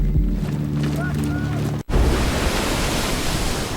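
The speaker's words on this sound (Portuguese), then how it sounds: "Art Sweeney e o 39º Regimento de Infantaria estão em um navio saindo da base naval de Norfolk" Ocean waves wash against a ship leaving Norfolk naval base in 1942, a continuous loud broadband roar with a steady low engine hum early on, broken by one brief dropout before the surging noise resumes.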